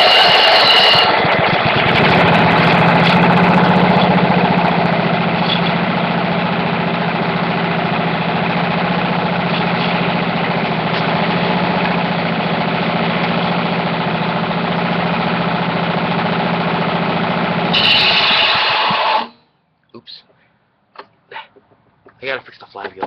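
An antique lawn mower's small engine runs loud and close for about nineteen seconds with a steady buzzing drone, then shuts off abruptly, leaving quieter handling noises and brief talk.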